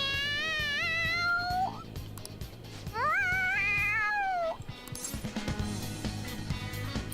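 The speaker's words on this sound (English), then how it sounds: "The cat's acting awfully excited." A cat in the Persona 5 video game meows excitedly, two long drawn-out rising-and-falling cries close and loud, followed by a busier stretch of game sounds.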